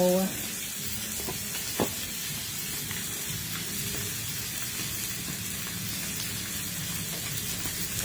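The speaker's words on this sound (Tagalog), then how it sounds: "Prito-prito na lang tayo." Food sizzles steadily in hot oil, a continuous crackling hiss that carries on throughout, with an occasional clink.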